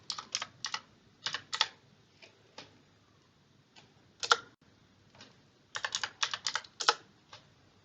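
A command being typed on a computer keyboard, with short bursts of rapid clicking keystrokes separated by pauses and single taps, close and alone.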